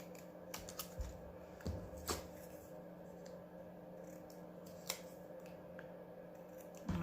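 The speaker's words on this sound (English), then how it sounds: "you can cut a little tag like this" Scissors snip a small paper tag in a few quiet, crisp cuts close by, with soft handling noises in a calm, low-level room.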